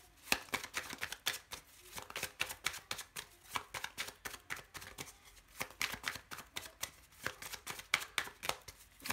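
Tarot cards being shuffled by hand, a quiet, close run of rapid riffling and flicking bursts repeating in an uneven rhythm, soft overall, no talk.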